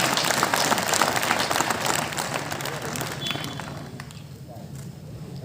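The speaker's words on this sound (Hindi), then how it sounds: "एक बार तालियों से जोरदार वाह" Vigorous audience applause and clapping at a Hindi comic poetry gathering in Lormi, loud and dense at first and then thinning out and fading toward the end, with voices mixed in.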